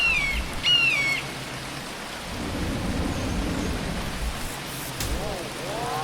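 Steady rain pours down on an alien planet in a video game, a dense hiss with low rumbling thunder beneath, and a few bright electronic chirps rising and falling at the start and near the end.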